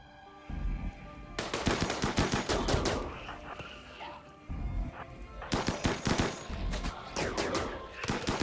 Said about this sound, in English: You just shoot at one Shambler and then you call it done?